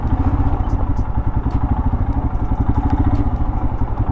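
Royal Enfield Himalayan motorcycle riding off-road on a rough, slushy patch, its single-cylinder engine thumping steadily and close up, with clatter and faint crackles over the continuous loud chug.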